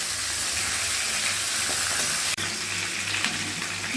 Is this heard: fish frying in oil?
yes